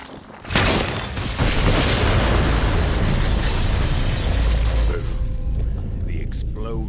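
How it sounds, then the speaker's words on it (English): A loud, booming explosion in a forest in the video game Borderlands 3 bursts in and rolls on as a long, rumbling roar, with debris-like crackle trailing off near the end. "The explosion echoed through the forest"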